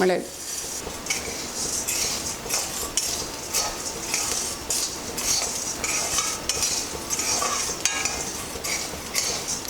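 Black pepper fries in a hot pan while a metal spoon stirs and scrapes it, making continuous close clinks and scratches over a soft sizzle, with no speech.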